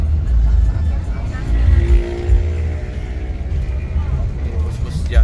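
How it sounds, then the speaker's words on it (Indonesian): East Java intercity buses roll past on the road, a loud continuous low engine rumble with rising and falling passes, while someone talks over the traffic noise. "Ini bus-bus Jatim udah melintas menuju ke Jawa Timur."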